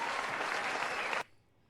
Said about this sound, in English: Give us a hand clap